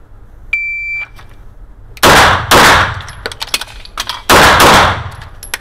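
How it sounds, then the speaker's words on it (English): At a shooting drill, a shot timer gives a single beep, then two loud, close gunshots ring out in quick succession. After a pause with reload handling noises, two more sharp shots follow. "Two shots, a reload, and two shots."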